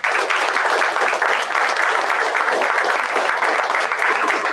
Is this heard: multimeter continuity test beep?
no